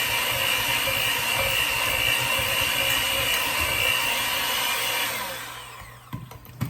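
An electric mixer whirs through cake batter as vanilla is blended in for a Kentucky butter cake, a steady loud mechanical drone that cuts off near the end, followed by a few light clinks.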